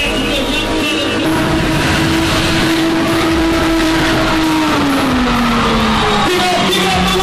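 A car spinning at an aftermarket car show in Kimberley, South Africa, its engine roaring loud and sustained near the listener, pitch rising and falling over tire squeal and a crowd's murmur.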